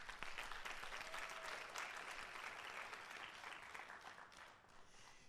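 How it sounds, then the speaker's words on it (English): Audience applause at a student government installation ceremony as the Vice President for Student Affairs is invited up, a sustained, even round of many hands clapping, faint and distant, tapering slightly toward the end. "Can we clap it up for him?"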